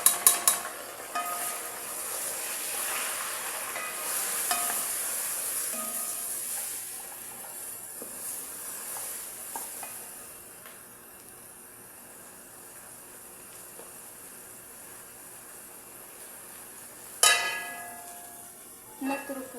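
Chicken being stirred with spices in a pot, a soft steady sizzle with quiet scraping of the spoon, faint and close, and a few sharper clinks near the end.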